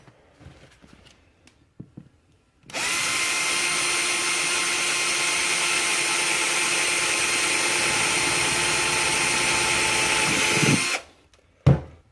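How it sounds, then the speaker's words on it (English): A power drill with a 7/64 bit bores a new screw hole in a plastic part, a steady continuous whine lasting about eight seconds, loud and close, with faint handling noises before and a brief burst after. "And drill a new hole."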